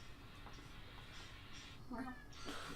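A cat gives a couple of short meows, faint and somewhat distant, amid people talking in a quiet room.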